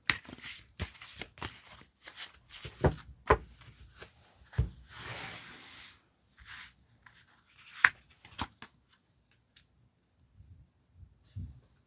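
Tarot cards are shuffled and five are picked from the deck, making close, dry rustling and papery flicks in quick bursts that thin out into sparse, faint taps and a long quiet stretch.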